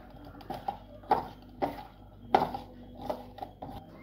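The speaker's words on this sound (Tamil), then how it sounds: "இதை நான் இப்போ மிக்ஸ் பண்ணுறேன்." Spoon scraping and clinking against a bowl as cauliflower is mixed with masala and ginger-garlic paste, a series of irregular close taps and scrapes.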